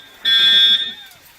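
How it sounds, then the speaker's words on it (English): A building fire alarm blares during a department meeting, a loud steady electronic tone that starts abruptly, holds for about half a second, then cuts out, leaving quiet room sound and faint voices. "Fire alarm."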